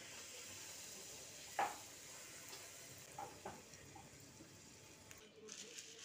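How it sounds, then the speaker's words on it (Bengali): Luchi fry in hot oil at home with a quiet, low sizzle, punctuated by a few soft pops and stirring clinks, faint and close. "তাই লুচি ভাজা হচ্ছে।"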